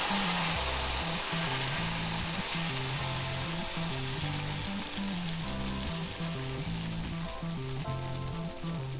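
Ragi batter sizzles steadily on a hot, oil-greased pan in a close, even frying hiss, with quiet background music underneath and no talk.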